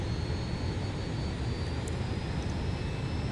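Fokker F-28 jet engines spool up on final approach in a flight simulator, a steady loud broadband roar with a faint high whine running throughout.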